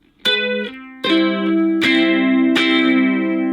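Strummed chords from a ukulele through a Positive Grid Spark Go amplifier, four strums with long, washy reverb sustain and a distorted, reverberant ring.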